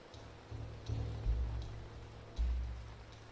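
Rain falls in the Ancient Cities game: a soft, steady patter and wash with low rumbling swells, faint and continuous, with no voices over it.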